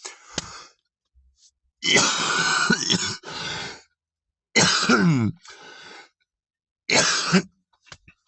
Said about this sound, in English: I really hate having a cough like this all the time